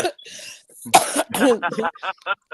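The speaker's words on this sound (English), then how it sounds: "Got me coughing." A harsh, loud cough burst with throat clearing, mixed in with close speech and laughter-like vocal sounds.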